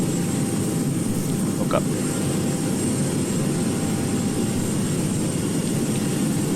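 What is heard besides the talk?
airplane taking off from runway 25 at Muenster-Osnabrueck Airport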